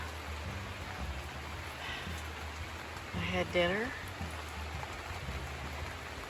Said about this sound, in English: And it started raining before I got my tent set up.